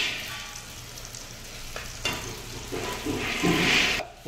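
Food frying and being stirred in a pan in a shared room kitchen, a continuous close sizzle that grows louder toward the end as scraping stirs and spatters build.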